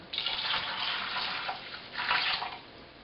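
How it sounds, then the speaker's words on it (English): Cooled priming sugar solution is poured into homebrewed Edme English IPA in a bottling bucket. Steady splashing liquid rises and falls in two surges, close and moderately loud, with no talking. "we will take our cooled priming sugar solution and add it in"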